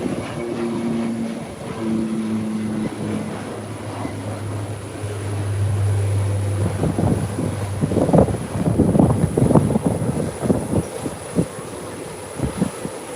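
An airliner climbs away after takeoff, its engine roar swelling steadily over several seconds with gusty wind buffeting the microphone and a low droning tone underneath, no talking.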